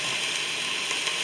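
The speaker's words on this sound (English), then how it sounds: "So I'm just going to cover it slightly to fry," A continuous, even sizzle of West African food frying in a partly covered pan, a bright crackling hiss holding steady for about a second with no talk.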